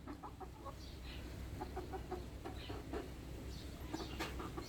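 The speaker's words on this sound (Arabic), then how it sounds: "وهذا الدجاج اللي عندي" A couple of backyard chickens cluck in a short, irregular series of close, soft clucks and murmurs, with no talking, over a steady outdoor background.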